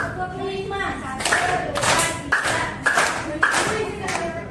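A class of students claps in rhythm on a teacher's count, with groups of sharp, loud claps in repeated bursts and the teacher's voice briefly heard at the start.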